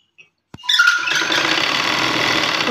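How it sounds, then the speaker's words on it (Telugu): A sewing machine double-stitches a blouse sleeve, starting after a couple of soft clicks into a steady close whirring drone that runs to the end. "డబల్ స్టిచ్ కంపల్సరీ వేసుకోవాలి, లేదంటే లూజ్ కుట్ అనేది ఊడిపోతుంది"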